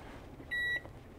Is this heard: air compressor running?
no